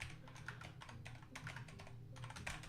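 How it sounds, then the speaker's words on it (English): Typing on a computer keyboard, a quick irregular run of light key clicks in short bursts with brief pauses, close and clear with no talking. "See, I'm typing them again, even though I could copy and paste"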